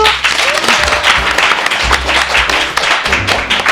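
Dense applause from an audience, steady and fairly loud for a few seconds, with scattered voices mixed in.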